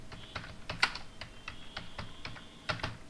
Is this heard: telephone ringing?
no